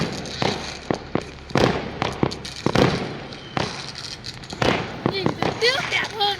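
Fireworks and firecrackers bursting on Chinese New Year's Eve: repeated sharp bangs and crackling pops at mixed distances, some loud and close, with people talking and excited voices over the blasts.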